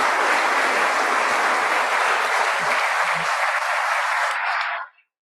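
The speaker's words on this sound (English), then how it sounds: "So let's give a big round of applause to Mick." A big round of applause from an audience at an author's conversation event, loud dense clapping held steadily before cutting off abruptly near the end.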